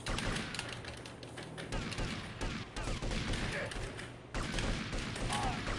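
Gunfire from GTA: Liberty City Stories crackles in quick repeated shots and thuds at moderate loudness, mixed with a player's voice.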